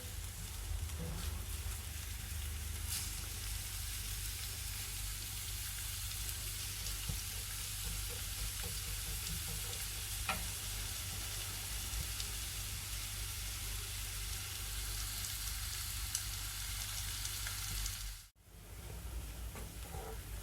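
Onions fry in a pan for a mutton korma, a dense continuous hiss of sizzling oil held at an even level close by, dipping briefly near the end before resuming.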